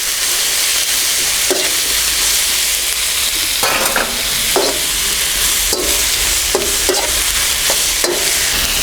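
Chicken balti sizzling and frying in a pan as curry powder is added, a steady loud crackle broken by repeated scrapes of stirring, close up with no talking.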